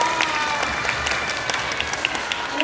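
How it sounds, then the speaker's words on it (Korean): An elementary school audience applauds to welcome a disability-awareness lecturer: steady, dense clapping from many hands fills the room, with a few voices faintly mixed in. "박수로 맞이해주세요"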